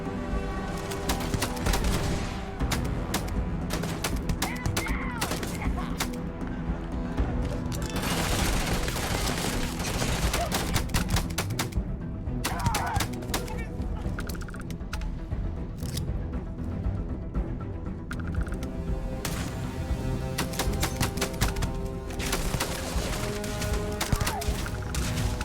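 Rapid bursts of gunfire from a weapon in Starfield crackle continuously, loud and close, over a busy layer of combat effects and music, with no pause across the stretch.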